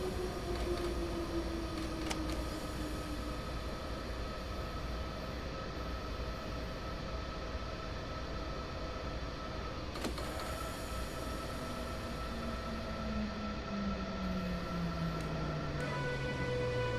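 An RE 50 regional train running in Train Simulator, a steady rolling rumble with electric motor whines that glide down in pitch and faint clacks along the rails, with no voices.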